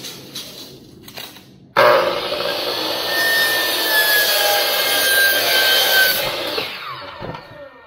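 Tongue and groove ceiling board being cut by a saw: after a few faint knocks, a loud steady rasping cut starts suddenly, runs close for about five seconds, then fades out with a couple of soft taps.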